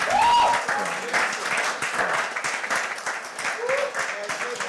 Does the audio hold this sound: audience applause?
yes